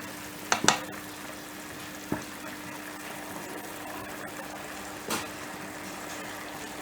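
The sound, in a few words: stirring meat with prunes cooking in a pot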